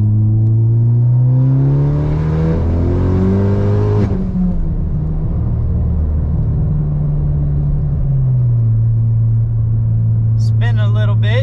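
Turbocharged Ford Focus ST fitted with a Garrett G25-660 turbo, accelerating hard through the gears, the loud engine drone rising in pitch, shifting, and climbing again from inside the car.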